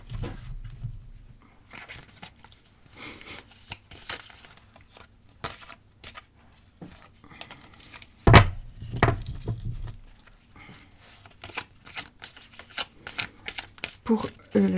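A tarot deck is cut and laid into three piles on a table, giving soft, sparse card slaps and shuffling rustles, with one louder thump partway through, under faint background speech.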